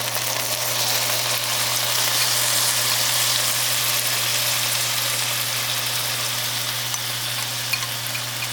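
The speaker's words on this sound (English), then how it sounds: "My pan is still sizzling." Tofu sizzles in a hot pan of Chinese scallion oil noodle ingredients, a steady, close frying hiss that runs evenly throughout with no talking.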